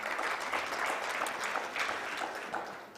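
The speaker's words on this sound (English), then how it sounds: "Another round of applause for her." An audience at an official opening ceremony gives a round of applause, a moderately distant wash of clapping that holds steady for a few seconds.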